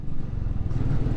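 A Royal Enfield Meteor 350 motorcycle pulls away, a low thumping single-cylinder rumble with a steady beat, close and moderately loud with no voices.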